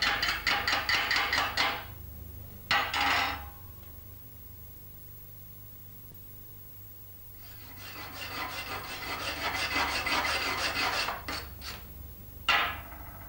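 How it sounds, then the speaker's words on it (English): A chipping hammer knocks slag off a manual metal arc stick weld in bursts of rapid, scratchy tapping and scraping, loud and close, split by a quiet pause in the middle, with no speech. "using the chipping hammer to remove the slag left on the weld"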